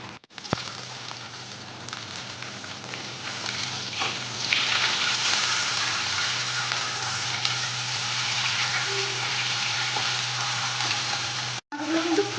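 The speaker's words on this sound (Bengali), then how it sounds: "এবার মাছগুলোকে আমি ভেজে নিচ্ছি।" Pieces of turmeric-rubbed catla fish sizzle in hot oil in a pan, a steady close crackling hiss that swells after a few seconds and runs on with faint spatters and a brief clatter near the end.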